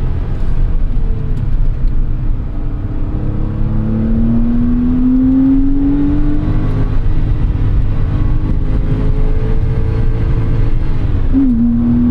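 Air-cooled flat-six of a Porsche 911 993 Carrera S droning steadily from inside the cabin while driving, pitch rising slowly under load, then dipping briefly before settling, with constant road noise underneath.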